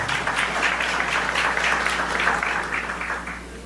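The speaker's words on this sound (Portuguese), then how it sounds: "palmas aqui para os nossos amigos complementares." Audience applause during a spiritist talk on the evolution of love, a dense, steady wash of many hands clapping that stays fairly loud for several seconds before easing off slightly near the end.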